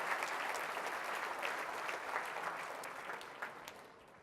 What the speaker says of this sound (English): So let's give them a huge round of applause for them to sponsor us.